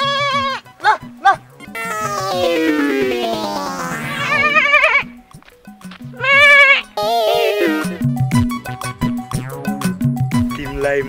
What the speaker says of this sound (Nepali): बाख्रा चराउन आएको बाख्रा कता गयो